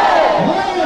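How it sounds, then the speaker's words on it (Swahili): A crowd at a public meeting with residents of Igembe North, Kenya, cheers loudly in a dense, continuous roar of voices, heard briefly and close. "Mheshimiwa Kairi makofi mazuri"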